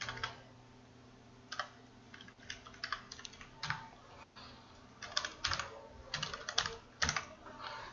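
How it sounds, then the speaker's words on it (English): Bank ID and password being typed on a computer keyboard, bursts of quick, light key clicks with short pauses between them, close and fairly quiet. "Say I'll just enter my ID and password."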